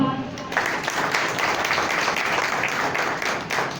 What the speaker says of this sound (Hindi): उसके जलाल के लिए जोरदार ताली।